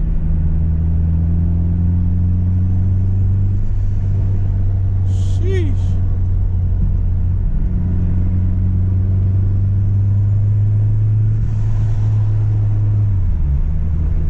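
A turbocharged 9th-generation Si car engine drones loudly and steadily from inside the vehicle on a night drive, with a brief whoosh and a short exclamation from a voice midway.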